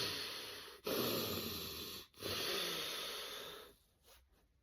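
Loud, close breaths drawn and pushed through the nose in two long controlled cycles, each a steady rushing hiss, as part of a Wim Hof style breathing exercise, fading to quiet near the end.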